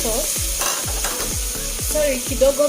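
Chunks of mbuzi mutton in a little broth hit a hot pot of yoghurt curry, sizzling steadily while a spoon scrapes and stirs in repeated strokes, close and fairly loud, with no voices.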